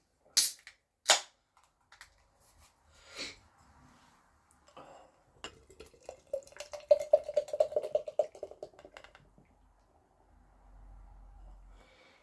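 Hazy orange supermarket beer is poured into a glass, starting with a few sharp clicks and then settling into a quiet gurgling pour that rises in pitch as the glass fills, with no talking.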